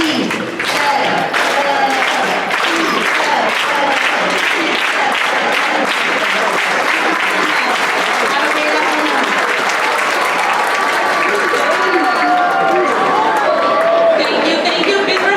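A school assembly audience at Pittsburgh High School claps together in a loud, dense, sustained round of applause lasting the whole stretch, with scattered voices and cheers mixed in.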